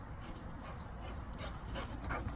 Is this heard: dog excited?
yes